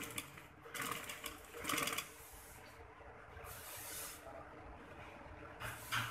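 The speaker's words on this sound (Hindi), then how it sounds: "कढ़ाई को कढ़ाई के साथ मैच करके यहाँ पे हमने सिलाई लगानी है।" A sewing machine stitches the side seam of an embroidered bridal tail maxi dress in several short bursts of rapid whirring, with brief pauses between runs, close and fairly quiet.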